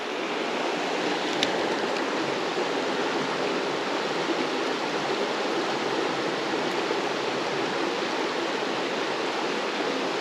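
A swift trout creek current rushes steadily and loudly, a dense unbroken roar of flowing water close by, with no voices.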